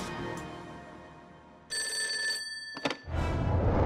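A telephone rings as a sound effect: one brief, bright electronic ring burst that stops abruptly, followed by a short rustle and a low rumble.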